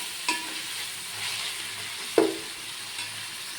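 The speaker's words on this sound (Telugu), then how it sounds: "ఇప్పుడు ఇందులో టమాటా వేసి కొంచెం సేపు ఫ్రై చేసుకుందాం" Tomatoes frying in ginger garlic paste for mutton biryani, a soft steady sizzle broken by a few sharp spoon-against-pan scrapes, quiet and close with no talking.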